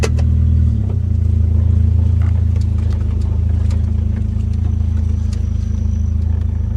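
A motorcycle engine rumbles loud and close as the ride starts, with a brief rev at the outset that settles into a steady, even drone under faint wind noise.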